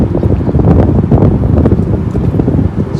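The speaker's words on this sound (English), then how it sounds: "We've got quite a windy day today" Strong wind gusts buffet the microphone at a riverbank under a bridge on the River Bure, a steady loud rumbling roar with no speech.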